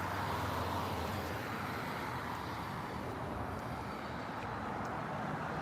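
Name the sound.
cars and trucks passing on the road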